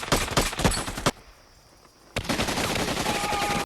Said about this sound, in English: Every man, fire 3 rounds.